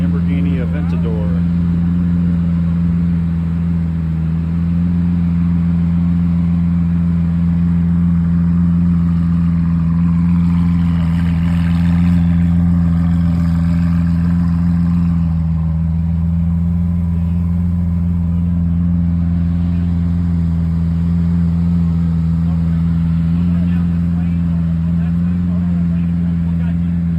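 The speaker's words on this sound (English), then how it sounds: "Lamborghini Aventador." A Lamborghini Aventador engine idling at a gathering of car enthusiasts, a deep continuous rumble with a gentle swell of revs midway, steady and close throughout.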